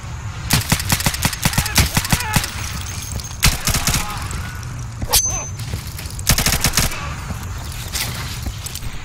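Heavy gunfire in the video game Insurgency during a brutal co-op match on Sinjar, loud sharp shots and bursts over a constant rumbling background of battle.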